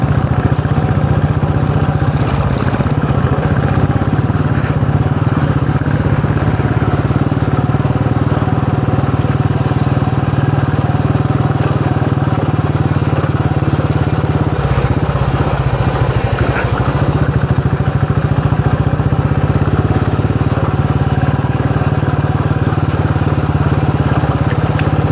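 A KTM Duke motorcycle rides along a rough road, its engine droning steadily and loudly close by with rattling and wind noise, the tone holding constant the whole way.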